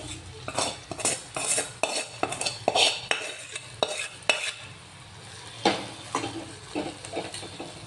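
Fried okra being stirred into a spiced tempering in a pan, a metal spoon scraping and knocking against the pan in a quick irregular rhythm over a soft sizzle, close and clear, with no talking.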